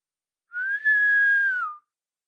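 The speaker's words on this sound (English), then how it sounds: "The portress blows in a whistle." A single whistle blast sounds in a stage play, one clean, sustained note lasting just over a second that holds steady and dips slightly in pitch at the end, heard alone in silence.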